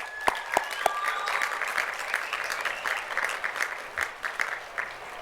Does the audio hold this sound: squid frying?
no